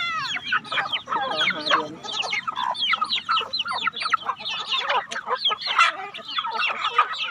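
A flock of farm chickens clucks and chatters continuously nearby, with overlapping calls and no talking.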